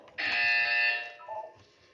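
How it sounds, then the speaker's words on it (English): A buzzer in the video game Portal 2 sounds once, a loud, bright electronic tone that holds about a second, then gives a short, weaker follow-up before fading. "When you hear the buzzer, look down at the floor."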